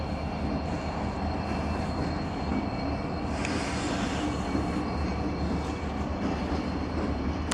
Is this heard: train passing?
yes